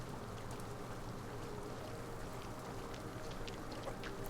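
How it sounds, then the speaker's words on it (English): Soft, steady wet lapping of zoo animals licking up water in the Planet Zoo video game, a continuous faint trickling texture with no talking. "you can actually hear them licking the water up."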